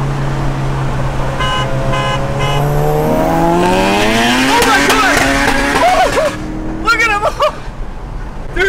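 Revving car engines race on a road, rising and falling in pitch as they accelerate and pass, loud and close, with brief horn-like toots and tire noise toward the end.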